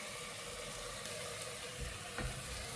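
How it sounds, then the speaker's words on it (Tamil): Spices such as chili powder, pepper, garam masala and cumin sizzle steadily in a hot pan as masala sautés, a soft continuous frying hiss with faint stirring scrapes and no voices. "இப்போ இதை நல்லா இந்த மசாலா வாசனை போகிற அளவுக்கு நல்லா வதக்கணும்."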